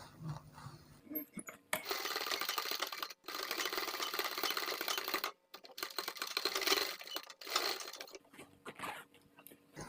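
A sewing machine stitching a concealed zip onto a blouse, running in several sustained close bursts separated by brief pauses.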